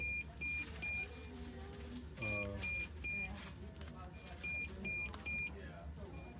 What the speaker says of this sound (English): And our pump is beeping.